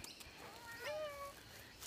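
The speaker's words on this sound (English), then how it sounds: "This cat just really scared." A cat gives a single short, faint meow midway through, set against quiet room ambience.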